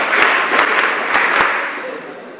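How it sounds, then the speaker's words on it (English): An audience at a mentorship session applauds in a short burst of clapping that fades gradually over a couple of seconds, with a few sharper individual claps standing out. "Clap for him."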